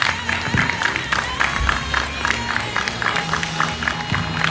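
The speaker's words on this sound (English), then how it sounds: "Let's give a round of applause for Anthony one more time for putting this all together." An outdoor crowd at a July 2019 March For Our Rights rally in Wheaton, Illinois applauds and cheers, scattered claps and whoops over a loose, open-air murmur.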